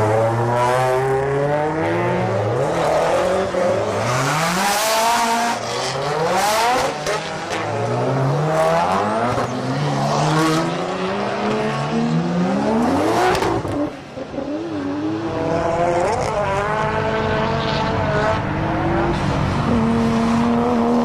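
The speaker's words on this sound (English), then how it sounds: "Check this drifter out. It's based on a Nissan Crew, which is usually a taxi in Japan." A drift car built from a Nissan Crew taxi, running on the YZ Circuit: the engine revs hard and rises and falls in pitch through repeated throttle blips and shifts, loud and continuous with tire squeal mixed in.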